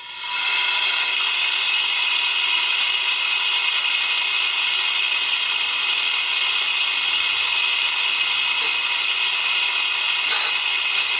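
Compressed air hisses steadily through a drilled engine passage on a VW Bus during a full-flow oil conversion. The hiss is loud, broad and continuous for the whole stretch, with no voices.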